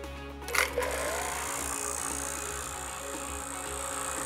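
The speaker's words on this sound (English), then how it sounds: "What I'm going to do now is turn on the vacuum with the micron gauge connected up to it" An HVAC vacuum pump hums with a steady low mechanical drone, pulling a system down toward 500 microns with a micron gauge attached. Near the start a short clatter is heard as it switches on, and the even hum continues throughout.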